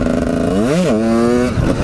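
A motorcycle engine revs up sharply and falls back during a wheelie practice, one loud close throttle blip that settles into a steady idle-like drone.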